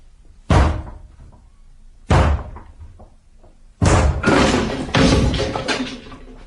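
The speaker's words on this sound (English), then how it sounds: "I'm going to break the door down, or rather we are" A wooden door is broken down in an old country house mystery drama, with loud heavy thuds and crashes: two single blows, then a longer crashing burst as it gives way.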